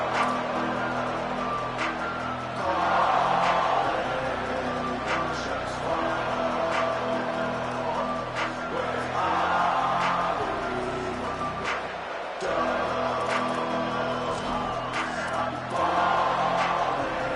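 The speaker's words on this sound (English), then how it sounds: "This crowd ready to make its presence known." A football stadium crowd roars and cheers in a steady, dense wash of noise, swelling at moments, with a commentator talking over it.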